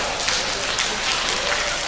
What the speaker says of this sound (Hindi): बजाओ फिर से ताली, बजाओ।